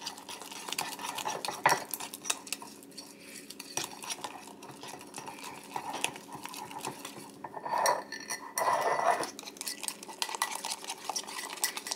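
Mug cake batter of flour and egg is stirred in a mug, a utensil clinking and scraping against the sides in a quiet, irregular rhythm, with a few brighter taps on the rim.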